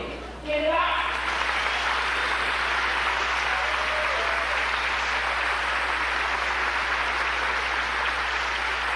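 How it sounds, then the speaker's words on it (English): A seated audience breaks into applause for a speaker being welcomed to the podium, with sustained, dense clapping that starts abruptly and holds at full strength for the rest of the stretch, and some voices mixed in. "Let us give Dr. Oba T'Shaka a thunderous applause as we bring him to the podium"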